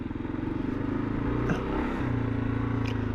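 A KLR motorcycle engine drones steadily as the rider downshifts on a trail, its low tone shifting midway with a brief clunk, then settling back to an even hum.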